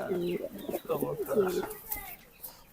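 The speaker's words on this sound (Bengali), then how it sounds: "কবুতরটা দেখতেও খুব সুন্দর এটা লাক্ষা জাতের কবুতর" Lakha breed pigeons kept on a rooftop coop give three soft, rounded coos in quick succession, close by, followed by quieter rustling.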